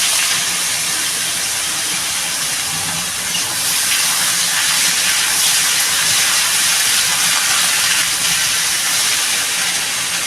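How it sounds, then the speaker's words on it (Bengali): Chopped bottle gourd hits a hot pan of oil with bay leaf and whole cumin, setting off a loud, close, steady steam hiss that swells slightly and holds for about ten seconds, with no talking. "এবার আমি লাউটা ঢেলে দেবো"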